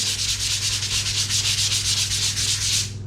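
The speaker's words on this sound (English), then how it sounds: "So lightly give that a sand, fix off all those edges" Sandpaper rubbed by hand over flaking, peeling paint makes a close, steady rhythmic scratching in quick back-and-forth strokes, continuous for about three seconds with no voices.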